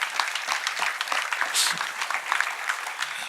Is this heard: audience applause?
yes